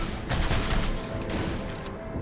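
A dense burst of rapid Mauser pistol gunfire in the video game The Darkness crackles and booms, loud and close, then tapers into a softer rattle of shots.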